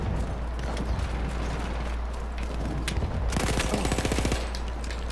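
Dense gunfire fills a Battlefield 1 match, with a constant mechanical background and rapid bursts of automatic fire that grow heavier partway through.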